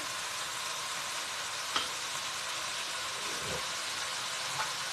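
Food stir-frying in an oiled pan with vinegar added, a steady soft sizzle running throughout with a couple of faint clinks and scrapes of stirring, no voices.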